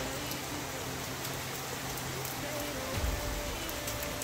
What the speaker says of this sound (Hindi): देख बारिश हो रही है बाहर